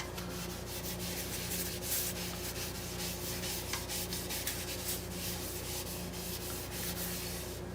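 Cloth or pad rubbing a coat of finish onto spalted turned wood, a steady soft scrubbing hiss that holds through the clip at close range with no talk.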